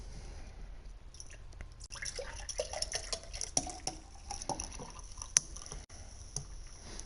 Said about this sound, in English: Sorry guys, I'm just pouring some